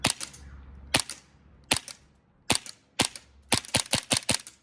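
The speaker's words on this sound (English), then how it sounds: "It's a very muffled popping sound, but it is a very hefty kickback for an all-polymer pistol." Muffled pops from a USHOT TP22 all-polymer airsoft pistol: three spaced single shots, then a quick burst of about six in a row, each short and crisp, nearby with nothing else heard.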